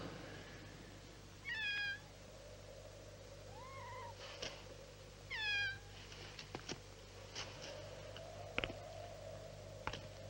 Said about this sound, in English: I told you I could hear a black cat.